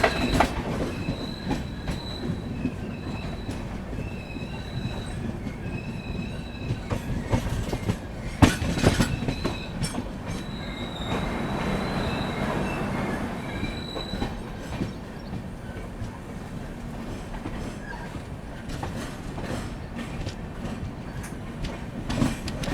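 Onboard the Trivandrum Rajdhani Express as it runs toward Madgaon Junction, a continuous rumble of wheels with rhythmic clickety-clack, metallic squeals and occasional sharp bangs and knocks.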